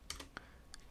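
Typing on a computer keyboard while entering a code into an ERP item-management program: several quick, faint key clicks in a short burst, with a pause before a final tap.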